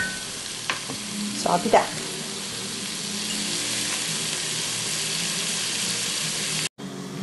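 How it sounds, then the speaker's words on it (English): Chopped bacon and onions fry in a pot for Tuscan soup, a steady sizzle running throughout with a few louder stirring scrapes early on and a brief voice near the start. "we're going to just cook this until the onions get, you know, translucent"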